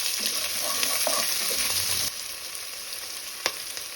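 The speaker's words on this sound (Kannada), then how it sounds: "ಈರುಳ್ಳಿ ಹೊಂಬಣ್ಣ ಬರೋ ತನಕ ಹುರ್ಕೋಬೇಕು" Three medium chopped onions with green chillies and curry leaves frying in a pan for poha, a dense close sizzle with spatula scrapes that eases to a softer hiss, one brief knock, no talking.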